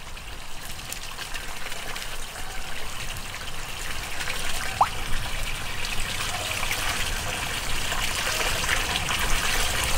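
Shrimp chunks tossed into a dark fish pond give a faint single plop near the middle, set against steady trickling and running water that fills the whole stretch.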